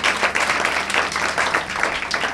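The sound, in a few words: audience applause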